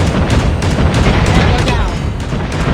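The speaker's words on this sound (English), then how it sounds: "Friendly Predator missile inbound." A Predator missile strike detonates in a Call of Duty Mobile match, a loud booming blast with rumbling low end amid sustained gunfire and battle noise.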